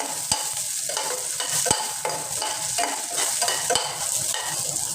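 Onion and curry leaves sautéing in a pan, a soft continuous sizzle broken by a few sharp spatula taps and scraping stirs.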